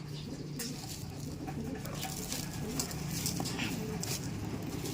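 Pet flyer pigeons coo softly amid low background murmur and faint rustling, with occasional light taps and flutters spread through the scene.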